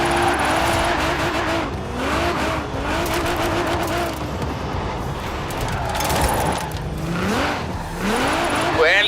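Cars drifting in the Forza Horizon 4 video game: engines rev and climb in pitch while tires squeal through long slides, with loud, continuous motor sound throughout.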